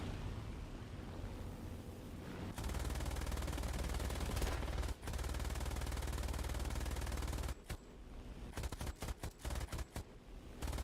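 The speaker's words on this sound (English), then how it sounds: "If you line up that JU-87 tail gunner, he is... It's a really good machine gun." A Ju-87 tail gunner's machine gun fires in War Thunder, long sustained loud bursts of rapid automatic fire, then a pause and several short choppy bursts near the end.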